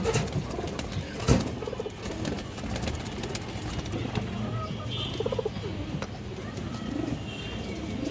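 Pigeons in a coop coo softly in the background, with scattered faint calls and a brief rustle or flap of wings nearby.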